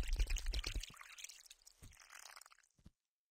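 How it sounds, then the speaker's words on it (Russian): Petrol pours into a canister in the horror video game Ice Scream, a close, gurgling liquid splash that runs strongly for about a second, then trickles in fainter drips and spatters before stopping. "Вы заполнили канистру бензином."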